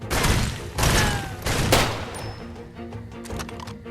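Pistol shots crack in Far Cry 2, three loud, sharp reports spaced about half a second apart, then a run of fainter, quicker shots trailing off in the distance.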